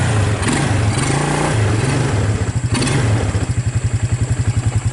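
A Suzuki KingQuad ATV engine with the choke half on cranks, revs roughly and then settles into a loud, close, rhythmic chugging idle, with no talking.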